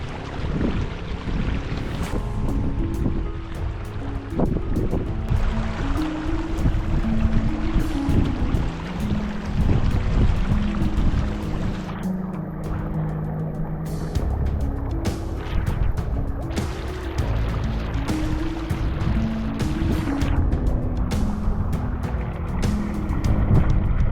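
Strong wind at Sprague Lake in Rocky Mountain National Park buffets the microphone with a loud, steady roar and repeated gusts, heard alone with no voices.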